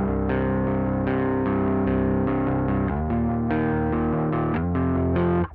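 An electric guitar plays sustained chords through a Source Audio heavy grinding fuzz pedal whose drive is automated from Ableton Live to thicken over time, dense and saturated, with a continuous loud wall of distorted tone and chord changes throughout.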